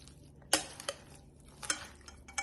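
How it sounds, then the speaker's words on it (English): A spoon stirs kicked up coleslaw in a bowl, giving a few sharp clinks and scrapes against the dish at irregular moments, close and fairly quiet, with no talking. "Get this in. Stir this up."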